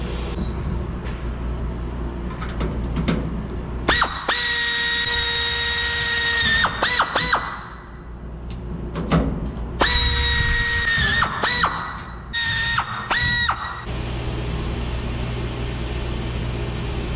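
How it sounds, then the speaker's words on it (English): An air drill bores matching holes through an aluminum plate on an RV-14 kit aircraft, several loud whining bursts of a few seconds each separated by pauses and workshop handling noise. "Cleco that plate on here and drill that out on both sides"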